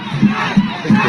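A protest crowd in Washington, DC, played back from a recording, roars and chants in loud rhythmic surges, several voices shouting together in a dense, continuous din.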